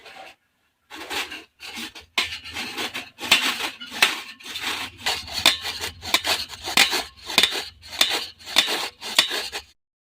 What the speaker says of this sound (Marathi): आता किसणीच्या सहाय्याने आपल्याला हे किसून घ्यायचे आहेत तर आता मी अशा प्रकारे किसून घेते